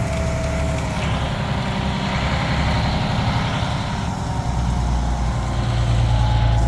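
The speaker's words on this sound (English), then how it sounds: "This is the second truck." A concrete truck arrives with a heavy diesel engine rumbling low and steady throughout, loud and close, with no voices.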